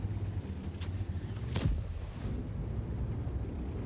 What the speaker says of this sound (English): And then artillery is going to shoot me as well.